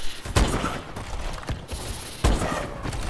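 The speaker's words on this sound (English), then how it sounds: "I'm missing all these shots" Rapid bursts of video game gunfire crack out in a few sharp, loud volleys with brief gaps between them, close and punchy, with no talking over them.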